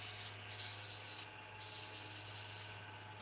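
Sandpaper starting at 300 grit rubs a turned pen spinning on a lathe mandrel, in three close, steady bursts of harsh hiss over a constant low motor hum.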